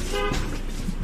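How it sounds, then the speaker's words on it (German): A car horn gives a brief toot on the road, loud and near, over the rumble of a running vehicle. "immer direkt hupen, ne?"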